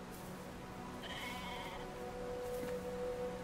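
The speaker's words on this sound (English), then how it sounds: "Some sheep on the other side." Sheep bleat from across a stretch of ground in Brothers: A Tale of Two Sons, one short wavering call rising over a steady outdoor ambience with faint game sounds.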